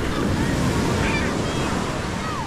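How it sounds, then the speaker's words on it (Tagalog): Strong ocean surf surging against the shore, a loud continuous wash of churning water and wind buffeting close to the microphone, with faint voices underneath. "Malakas na ang alon"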